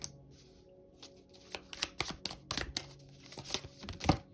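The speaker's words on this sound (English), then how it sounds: "One thing I'm going to do is shuffle my cards again." Tarot cards are shuffled by hand up close, with quick bursts of riffling and flapping card edges, irregular snaps and taps that grow busier toward the end, no talking.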